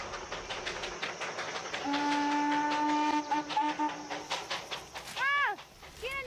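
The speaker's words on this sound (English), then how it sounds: "And the sounds of the train they brought" A Darjeeling mountain train rumbles with echoing whistle tones rising from the valleys: a long, steady steam whistle blast that breaks into shorter toots, then a few sliding hoots near the end, all heard at a distance over continuous rail noise.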